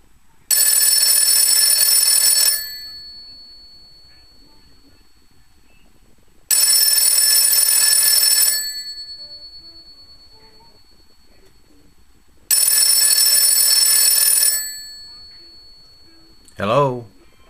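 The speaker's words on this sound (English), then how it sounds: "So here's the ring." A 1930 Western Electric 102 telephone bell rings loud and close in three long bursts, each about two seconds with pauses between, followed by a short voice at the end.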